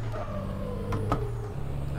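A Kenworth T800 truck engine in American Truck Simulator hums steadily with a low droning pitch that shifts slightly as it pulls, while someone talks over it.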